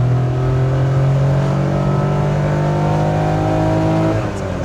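A kei truck engine revs hard under acceleration, its tone climbing steadily before a gear shift drops the pitch near the end, loud and close from inside the cab.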